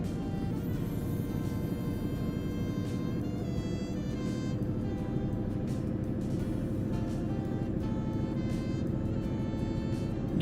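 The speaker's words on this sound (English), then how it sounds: "you can hear his engine fucking churning it out, trying its hardest to keep up" A heavy truck engine in Euro Truck Simulator 2 labours uphill, giving a steady, loud droning rumble with a sustained harmonic whine and no break in power.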